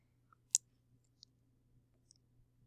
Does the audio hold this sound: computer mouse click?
yes